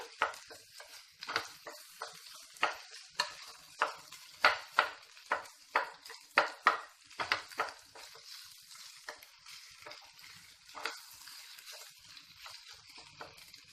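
Potatoes and onions fry in a pan with a hissing sizzle, broken by a rhythmic run of spatula strokes that come as regular swells, close up, then ease back into steadier crackling.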